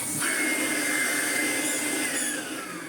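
A Vorwerk VK120 vacuum cleaner runs with a steady, loud motor whine and airflow rush that holds throughout before easing slightly near the end; its brush roll is not turning.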